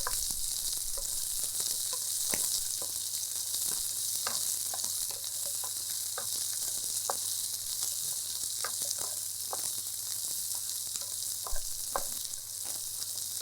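Chillies, garlic and onion sauté in a pan with a steady, soft sizzle. Occasional clicks of stirring break through the sizzle, and no voices are heard.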